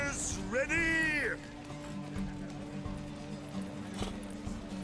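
Horses in The Witcher 3 set off at a race start, a whinny followed by faint hoof clops and thuds under a low drone, with a voice calling out briefly.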